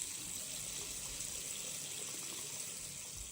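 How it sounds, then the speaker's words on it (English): Water runs steadily from an opened hot water faucet after a new mini electric tank water heater is filled, a constant hissing gush at low level with no speech. "Then turn on a hot faucet to make sure all the air is out of the system."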